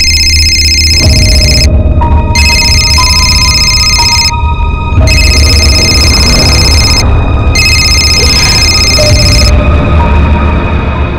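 A phone rings in a steady electronic pattern, repeating in evenly spaced bursts with short pauses, loud and close over a low background hum.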